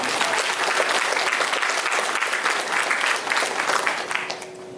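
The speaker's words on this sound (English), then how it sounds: "So please give another big round of applause as we welcome." Concert audience applauding at a Carnatic vocal recital, a steady dense round of clapping from a large crowd that holds throughout and thins slightly at the end.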